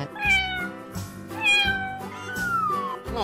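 A cat meowing, a few drawn-out rising and falling meows in close succession, loud and near, with no talking over them.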